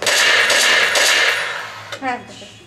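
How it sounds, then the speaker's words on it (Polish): A laser tag gun fires in an indoor laser arena: a dense, loud electronic burst rings for over a second and fades, then a short chirping, sweeping zap follows. "wciśnięcie spustu, jeden strzał"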